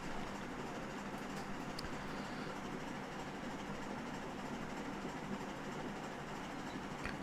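A steady, moderately quiet rolling rumble and hiss from a locomotive and its cars in the Railroads Online game, continuous with faint metallic ticks and no voices.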